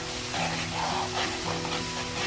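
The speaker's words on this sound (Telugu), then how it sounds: "ఇప్పుడు నేను టమాటా వేస్తున్నాను" Finely chopped tomatoes hit browned onions frying in a pan, giving a loud continuous sizzle with stirring scrapes and hiss, close and steady throughout, no talk.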